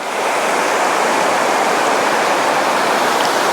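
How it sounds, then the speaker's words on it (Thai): A forest waterfall's lower tier roars in a loud, steady, unbroken rush of falling water close at hand, with no voices. "มันจะมีด้านล่างผมเป็นน้ำตกชั้นล่างเนาะเดี๋ยวจะพาลงไปครับ"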